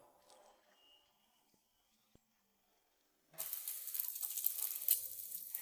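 An egg fries in a pan: after about three seconds of near silence, a loud, bright sizzle suddenly starts and continues steadily to the end.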